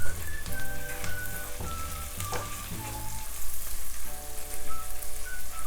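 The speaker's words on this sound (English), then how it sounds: "saute for a little bit" Potatoes with chili pepper, salt and spices sautéing in a pan for fenugreek potato curry, a loud, continuous sizzling hiss with rhythmic bursts and clatter like stirring.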